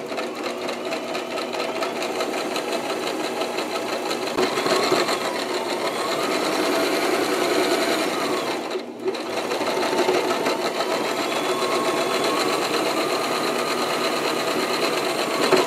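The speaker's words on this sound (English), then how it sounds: "I'm going to go ahead and put a stitch there and a stitch here" A sewing machine stitches fabric for a grow bag, giving a loud, steady mechanical whirr that runs almost without a break, with one short pause midway.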